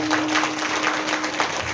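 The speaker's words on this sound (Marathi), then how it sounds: "त्यांच्यासाठी एकदा जोर टाळ्या" An audience at a kirtan applauds steadily, a dense, even wash of many hands clapping close by with a faint steady tone underneath.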